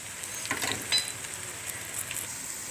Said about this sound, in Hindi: तो इसी तरह सारे हम फ्राई करेंगे